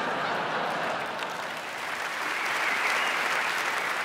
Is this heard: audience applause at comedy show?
yes